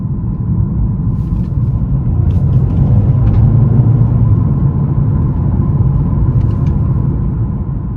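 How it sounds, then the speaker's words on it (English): 2021 Mercedes-AMG CLA 35 in Sport Plus mode under light throttle, a loud, steady, deep engine and road rumble from inside the cabin that swells slightly as the car picks up speed. "One-sixth of a throttle acceleration right over there in Sport Plus mode"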